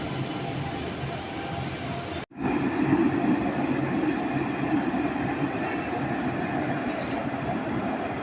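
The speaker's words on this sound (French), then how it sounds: "Allez, un dernier tram, c'est celui-ci." A tram rolls through the Jean Médecin stop in Nice with a loud, continuous rumble of wheels on rails, briefly cutting out for an instant before the steady roar resumes and holds.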